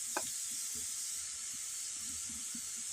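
Soft, steady sizzle of spices and chili powder frying in oil in a pan, a quiet continuous hiss with faint stirring knocks.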